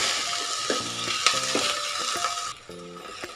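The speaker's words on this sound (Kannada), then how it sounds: "ಈರುಳ್ಳಿ ಫ್ರೈ ಸ್ವಲ್ಪ ಆದಮೇಲೆ ನಾವು ಅದಕ್ಕೆ ಟೊಮೊಟೊವನ್ನು ಹಾಕೋಣ. ಟೊಮೊಟೊವನ್ನು ನೀಟಾಗಿ ಫ್ರೈ ಮಾಡೋಣ." Onion and tomato frying in oil in a pan for drumstick sambar, a loud close sizzle broken by several short stirring scrapes of a spoon against the pan.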